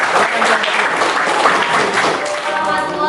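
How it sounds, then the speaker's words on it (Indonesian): Applause for the white group at a university teaching-practice session: a roomful of people clapping loudly and continuously, dense and even, with faint voices mixed in. "Berikan tepuk tangan untuk kelompok putih"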